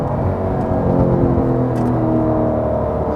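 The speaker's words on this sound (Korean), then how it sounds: "이 후배기음이" Cadillac CT5-V Blackwing exhaust rumbling steadily and loud after a downshift, a dense low burble with faint crackle on top.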